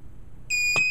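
A rotary encoder based cooking timer gives a short electronic beep as it starts, a single bright tone sounding once midway after near silence.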